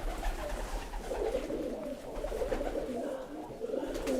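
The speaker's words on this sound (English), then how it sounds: "there's a lot more than 10 doves in here" Doves coo together inside a whitewashed dovecote at a manor house. Their soft, low calls overlap in a continuous murmur that fills the enclosed space.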